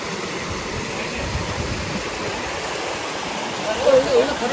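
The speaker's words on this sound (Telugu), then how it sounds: "మనకైతే ఒక చిన్న మినీ డ్యామ్ లాగా ఉంది చూడండి" Water pours over a small mini dam in a deep forest along the Sabarimala trekking route, a steady, close, full rushing roar with a faint high call briefly rising near the end.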